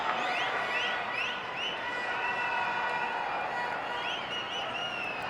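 A stadium crowd at Wankhede Stadium applauding a batsman during a Mumbai T20 League cricket match, steady clapping and cheering with scattered whistles and shouts from a distance, holding at an even level throughout.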